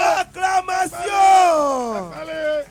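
A church congregation at an Easter convention cheers and shouts acclamations, a loud rising cry of many voices that swells, holds, then trails off.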